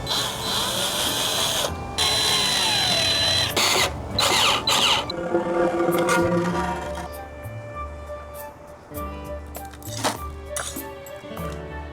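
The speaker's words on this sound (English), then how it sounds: "now I'm drilling the little thing we'll connect to." A power drill whirs in several bursts while drilling a small shade connector in a backyard, with clinking and ratcheting tool noises between runs, close up and fairly loud.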